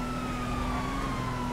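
A police car siren in GTA 5 during a chase, a steady wailing tone held loud over continuous engine and road rumble, with no talking.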